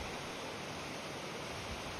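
Steady broadband rush of stream water flowing beside a mountain trail near a tall stacked-boulder rock formation, continuous and even throughout with no voices.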